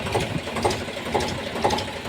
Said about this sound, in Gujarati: હા મસ્ત ટ્રેક્ટર છે અને ઓલું મસ્ત ટ્રેક્ટર છે